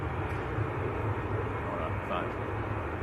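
A Jet2 airliner bound for Malaga departs Manchester Airport, its engines giving a steady, loud broadband roar that holds without a break, with people talking faintly underneath.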